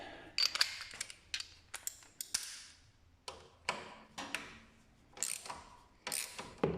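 Ratchet on an extension loosening the front axle bolts of a Honda CBR1000RR SC57 motorcycle, heard as quiet bursts of rapid clicking repeated many times with short pauses between them.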